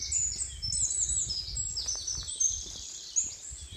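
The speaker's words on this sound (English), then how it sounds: "if anybody knows what the bird song is that we're listening to" A songbird sings outdoors on a countryside walk, giving several short, high, whistled phrases in bursts over a low rumble of wind and footsteps.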